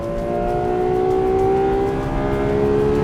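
A Ferrari 12Cilindri V12 engine drones steadily as the car cruises on a track, a smooth high-pitched whine rising slightly over a rumbling road noise, sustained and fairly loud.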